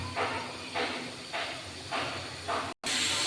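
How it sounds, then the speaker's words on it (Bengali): Vegetables fry lightly in a little oil in a pan, giving close, rhythmic bursts of hissing sizzle about every half second, with a brief silent gap near the end. "এখন হালকা তেল দিয়ে দিয়েছি, এটাকে হালকা ভেজে নেব"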